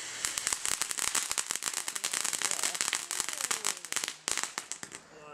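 Firework fountain burning outdoors, a dense stream of sharp crackles and pops running continuously at steady loudness for several seconds, with brief dips near the end.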